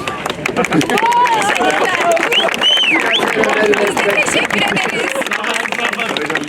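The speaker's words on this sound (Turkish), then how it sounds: "Alkış!" A crowd at an outdoor provincial health directorate nature event in Erzurum applauds young campaign volunteers, with dense, loud clapping mixed with cheering and voices running steadily throughout.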